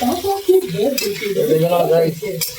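Fish fries in a pan with turmeric and is stirred, a loud close sizzle with scraping, while a voice sounds over it.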